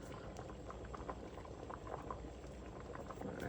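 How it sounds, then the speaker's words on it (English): Water at a full rolling boil in a pot, ready for dumplings, with steady close bubbling and gurgling throughout and no talk. "Once the water starts boil, I can put in the dumpling."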